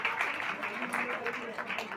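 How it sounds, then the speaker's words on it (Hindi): Audience clapping at a school prize ceremony, fairly faint and steady under an amplified speaker's voice. "तालियां बजाओ"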